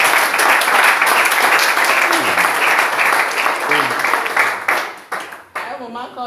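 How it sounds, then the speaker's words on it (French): A church congregation claps and applauds steadily, with some voices rising above the applause before it thins out toward the end. "Applaudissons pour le Seigneur."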